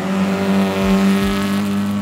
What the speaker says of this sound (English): Here comes a rally car.